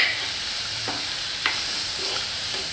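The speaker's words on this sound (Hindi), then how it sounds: "अब धीमी आँच का हम इसको पकाएंगे मूंग की दाल को देख लीजिए अच्छे से भून लेंगे" Dry moong dal hisses and rustles softly while roasting over low heat in a hot pan, with a few brief scraping strokes of a spoon stirring it; no voices.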